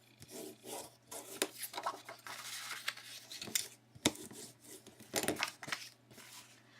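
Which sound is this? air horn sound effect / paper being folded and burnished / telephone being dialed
paper being folded and burnished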